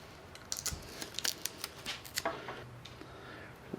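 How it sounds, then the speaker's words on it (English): A piece of Scotch tape pulled and torn off while building a foam glider, heard as a cluster of quick, close crackling rips and snaps, with no talk. "let's go ahead and give this a little bit more strength with a piece of Scotch tape"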